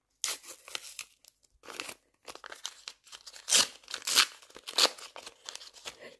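Paper surprise packet being torn open and crinkled by hand, a series of sharp rips and rustles with short pauses between them, close and quiet.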